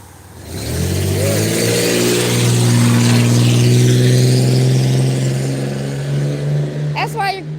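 A truck engine revving hard and close, the pitch climbing and holding at a loud sustained roar before easing off, with a brief squeal and a short burst of voice near the end.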